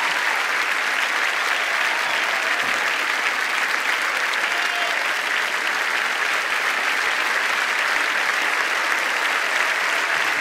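Sustained, dense applause from a large church audience, loud and steady throughout with no pauses or voices on top.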